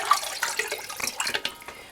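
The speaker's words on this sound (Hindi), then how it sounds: "इसमें आप डालेंगे पानी" Water poured into a cooking pot holding marinated beef, a splashing, gurgling stream at close range that rises and falls in short surges, with no talking over it.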